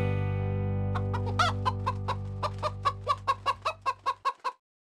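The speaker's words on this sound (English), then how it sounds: "Hickety Pickety, my black hen, she lays eggs for Jenkins." A black hen clucks in a steady series of about a dozen short, evenly spaced calls, close and clear, rising slightly in loudness, over a low sustained musical drone that ends just before the last clucks.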